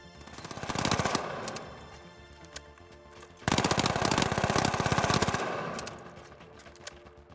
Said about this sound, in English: Next is the M11, a small Uzi, great for outputting rapid, high damage at close range